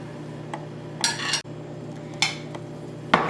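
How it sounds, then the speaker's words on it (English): Tuna pate ingredients being mixed in a bowl: a few sharp clinks and scrapes of a utensil against the dish, spaced irregularly over a quiet kitchen hum, with no talking. "And now you're gonna mix them all nicely until everything combined."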